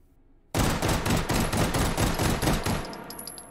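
Beretta M93R pistol with a compensator fired in the VR game H3VR, a fast sustained burst of rapid close, loud shots lasting about three seconds after a quiet start.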